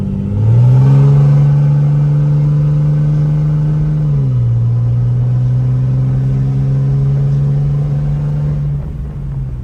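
A 5.9L Cummins diesel engine held at roughly half to three-quarter throttle gives a loud, steady, droning roar with a strong low hum, one brief dip in pitch midway, then easing off at the end. No voices are present.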